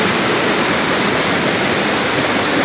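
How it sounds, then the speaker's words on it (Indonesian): The tall Ceracai waterfall in South Aceh roars loudly and without pause, a broad, steady rush of cold falling water close to the listener. "Air terjun ini panjang nih."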